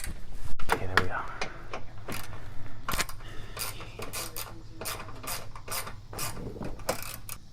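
A ratchet clicks in quick bursts while 10mm bolts come off the front bumper of a 2013 Scion FRS, close mechanical ratcheting with scattered knocks and handling noises.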